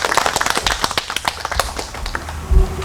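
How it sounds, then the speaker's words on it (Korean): Elders at a Korean ski history roundtable clap in welcome, a dense, steady patter of many hands close by, continuing throughout with faint voices underneath. "우리 원로께서 박수로다가 우리 환영을 한번 해주죠."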